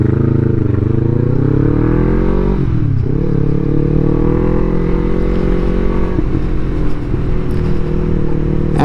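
Yamaha MT-03 motorcycle engine pulls away in first gear, a loud, steady close-up drone with rising and dipping pitch as the clutch engages and the revs build, running continuously with no talk.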